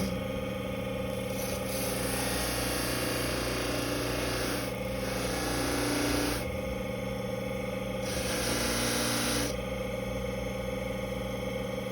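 A small rotary sanding tool grinds down a broken hearing aid shell, a continuous high whine and buzz with several surges in pitch and loudness as the bit bears on the shell, close by.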